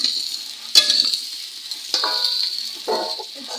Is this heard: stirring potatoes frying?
yes